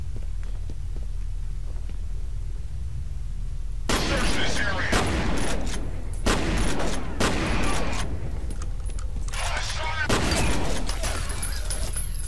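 Gunfire in the shooter game F.E.A.R. 3, quiet at first, then loud dense bursts of rapid shots in several separate volleys, with speech present.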